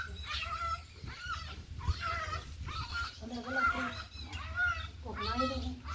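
Dogs on the outskirts of a village give a series of whining, yelping barks. There are about four or five separate calls, fairly close, over a low background murmur.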